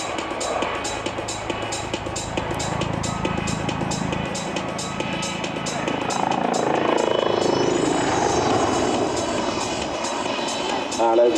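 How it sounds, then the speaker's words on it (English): Lynx helicopter flying a loop at the Biggin Hill Airshow 2004, its rotor and turbine roar steady and fairly loud at a distance, swelling slightly as it goes over, with crowd and wind noise around. "You actually see a helicopter perform a loop."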